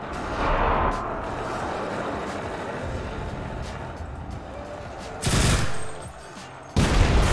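Battle din from the WWII shooter Enlisted, where an anti-tank mine detonates beneath a tank: steady gunfire and rumbling combat noise, then a heavy blast burst near the end, followed by another sharp surge.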